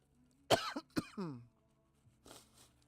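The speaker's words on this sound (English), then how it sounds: "I'm sorry, I'm coughing over here." A person coughs a few times in quick succession, close and sharp, followed by a quieter throat clearing after a brief pause.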